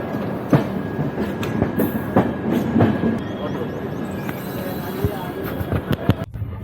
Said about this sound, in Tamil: அண்டு ஃப்ளாக் காமிக்கிறாரு, வண்டி கிளம்புது.